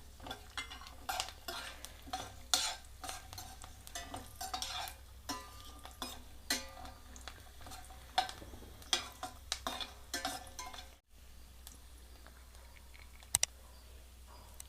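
Cashews and almonds fry in a pan for a semiya coconut milk payasam: a soft continuous sizzle broken by frequent spoon scrapes and taps against the pan, with no talking.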